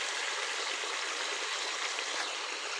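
Tomato puree poured into a hot pot while cooking a smoky dhuan chicken: a continuous, even hissing rush like a steady stream, close and unbroken, with no talking.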